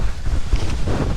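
Strong wind gusting outdoors at an off-grid mobile trailer build site, a loud rumbling buffet against the microphone that swells and eases over a brief moment, with no talk.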